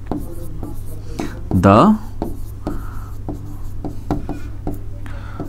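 A pen writes an answer by hand in short scratchy strokes on paper, close to the listener. A single brief spoken word cuts in partway through.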